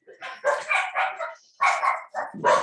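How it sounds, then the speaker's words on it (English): Several dogs bark in a rapid series of close, loud barks with brief pauses between bursts, heard indoors near a soldering workbench. "Sorry about the dogs."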